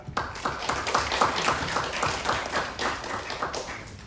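A Thai audience at a public talk claps for the ministry, a moderate crowd of hands beating in fairly steady, rhythmic bursts that hold through the whole stretch.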